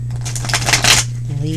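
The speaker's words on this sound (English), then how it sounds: "Shuffle them on my lap here." Brief riffling shuffle of tarot cards, close by, a quick papery flutter rising and fading over a low steady hum.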